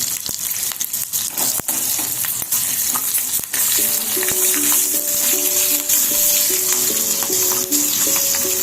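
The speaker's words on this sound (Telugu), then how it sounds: "ఒక 3 గ్రీన్ చిల్లీస్ కట్ చేసుకున్నానండి. కొంచెం ఫ్లేమ్ పెంచుదాం. ఇది కూడా ఫ్రై అవ్వాలి." Sliced green chillies fry in hot oil over a raised flame, giving a steady, close sizzle with scattered sharp pops and clicks of a spoon against the pan, while a soft musical tone runs underneath in the second half.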